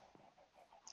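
Chickens in a Minecraft farm give a few faint, soft clucks in a quick uneven rhythm, ending on a sharper click.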